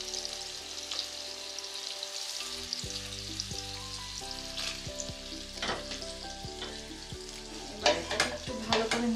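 Onions fry in a hot pan while a utensil stirs them, steady sizzling broken by scraping knocks and clatters that grow busier and louder toward the end, with no talking.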